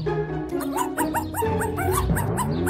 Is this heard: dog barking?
yes